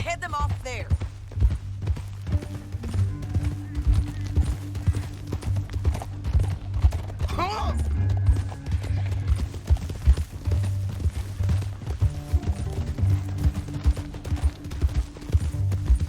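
Rhythmic hoofbeats of a galloping horse in Red Dead Redemption 2 clatter steadily over a low droning music bed, with a brief swooping effect early on.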